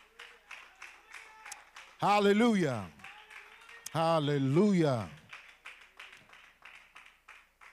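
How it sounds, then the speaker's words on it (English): A church congregation claps in a steady rhythm of sharp, even claps, with loud voices calling out praise in two long bursts that cover the clapping for a while. "Let's give God one more clap of praise if we can do that tonight."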